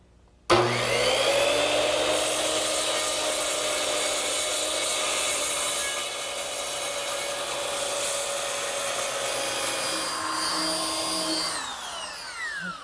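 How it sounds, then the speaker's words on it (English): A circular saw trims the angled ends of a wooden headboard in a woodworking shop, starting abruptly and holding one loud, steady whine for about eleven seconds before spinning down at the end. "I'm just going to take a circular saw and trim the angles"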